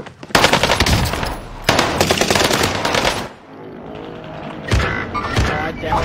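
Rapid automatic gunfire in a battle royale video game, loud sustained bursts with brief pauses, followed by quieter single shots, with players talking over the action.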